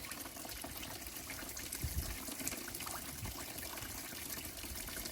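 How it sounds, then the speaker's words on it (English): Water splashes and trickles from the cooling outlet of a boat's engine fed by a garden hose, a steady close gurgling stream with a few louder spurts and no talking. "There's water going through there."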